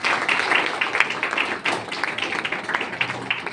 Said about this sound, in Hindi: एक बार फिर से नैन्सी के लिए शानदार ताली हो जाए